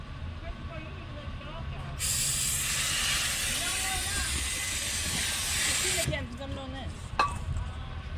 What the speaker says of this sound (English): There's some more brake clean all over this.